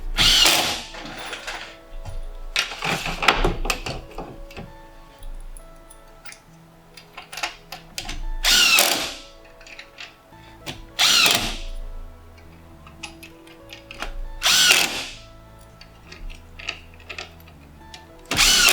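A power drill whirs in several loud bursts, each a few seconds long, installing Silca deck grates, with quieter clanking and tool handling in the gaps between.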